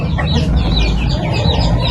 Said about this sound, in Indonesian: Indukan yang di belakang saya itu indukan yang bertelur.